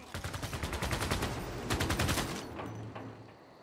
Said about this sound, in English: I think I'd rather use this machine gun here.